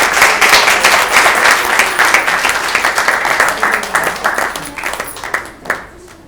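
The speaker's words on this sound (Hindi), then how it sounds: "जोरदार तालियां हो गई।" Loud audience applause after a stage play, dense clapping from a crowd that gradually thins and fades out near the end.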